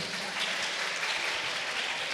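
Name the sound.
audience applause for a child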